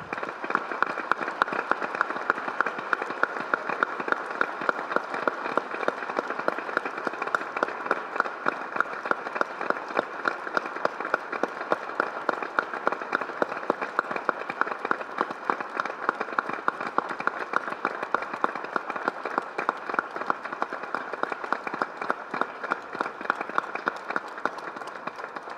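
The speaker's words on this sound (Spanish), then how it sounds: "quisiera que le regaláramos a ellos dos un aplauso" Long, even applause from the audience at a document presentation event, a steady dense clapping that holds at a constant level for about twenty-five seconds without talk over it.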